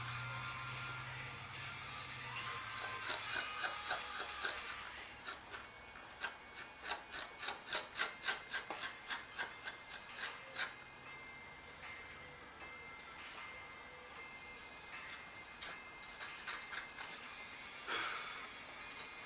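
An angled blade trims frilly edge pieces off leather for a Smith & Wesson 642 holster, giving a series of short, close rasping scrapes in uneven bursts, with no talking.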